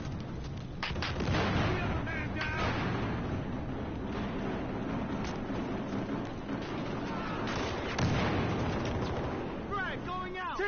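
Gunfire rattles through a police-versus-criminals shootout in Battlefield Hardline: repeated shots and bursts with explosive thumps, mixed with shouting voices, loud and steady throughout.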